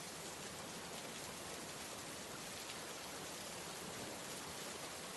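Steady rain falls through the night, a dense, even hiss of drops that holds at a constant level with no voices or other sounds.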